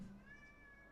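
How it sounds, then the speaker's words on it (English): A cat gives a single short meow, clear but quiet, heard alone indoors. "What are you meowing at?"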